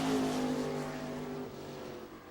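FASCAR race cars at New Smyrna drive into turn four with a steady engine roar that thins slightly as they pass.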